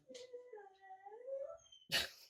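A dog whimpers in a thin, wavering whine that rises and falls for over a second, followed by a short sharp snort or sneeze-like burst, all fairly faint and close.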